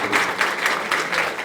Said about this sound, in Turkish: güçlü alkışlar rica ediyorum